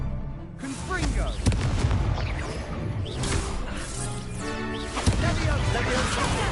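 Confringo blasting spells in the video game Hogwarts Legacy, loud explosive booms and whooshes over continuous battle noise, with a voice shouting over them.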